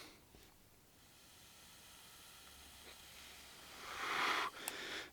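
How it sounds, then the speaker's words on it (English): A freshly built AzeRoth RTA coil at 0.13 ohms, fired at 80 watts, sizzles with a close, steady hiss that swells louder near the end before cutting off, with no talking. "Nice little sizzle."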